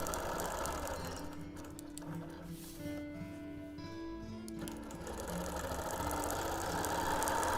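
A quilting machine stitches a bubbly line across a wholecloth baby quilt, giving a steady, fast mechanical whirring and clatter that runs close and continuous with slight variations in speed.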